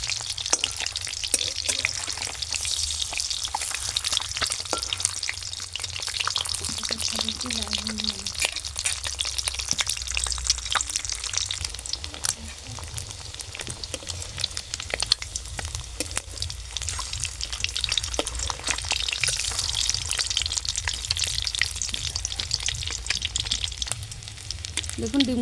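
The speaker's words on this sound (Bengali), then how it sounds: "দেখুন, ডিমগুলো কিন্তু লাল লাল করে ভাজা হয়ে গেছে।" Eggs fry in a pan with a steady, loud sizzle and crackle that holds throughout, broken by occasional scraping and stirring of the pan, with no voices over it.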